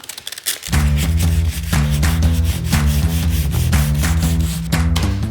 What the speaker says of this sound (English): I'm going to just take some 150 grit and kind of just cut it smooth out